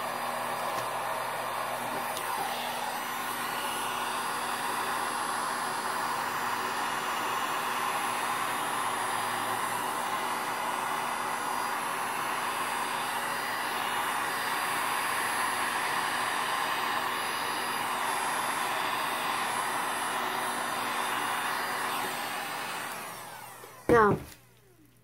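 A heat gun blows on freshly poured acrylic paint, making a continuous, even whooshing roar for over twenty seconds before a brief louder burst as it switches off.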